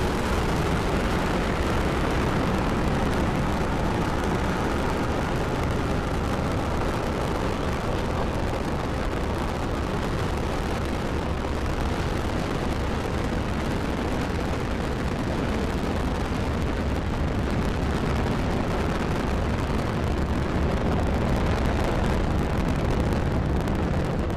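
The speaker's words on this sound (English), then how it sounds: "Ignition, liftoff." SpaceX rocket engines roar at liftoff during the August 2019 AMOS 17 launch, a loud, continuous broadband rumble and crackle that holds steady and unbroken for the whole stretch, with no voices over it.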